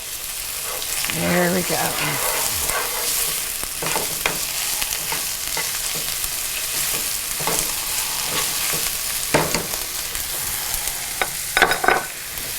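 Onions frying in a pan with a heaping spoonful of beef au jus base stirred in, a continuous close sizzle broken by repeated scraping stirs, while a person talks briefly over it.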